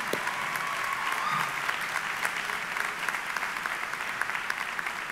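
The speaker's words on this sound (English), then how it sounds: "we all need to give you all a round of applause for being here" Sustained audience applause at a high school commencement ceremony, an even wash of many hands clapping that stays level throughout, with faint background voices.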